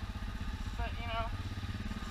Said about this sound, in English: the engine brake on this thing still is amazing.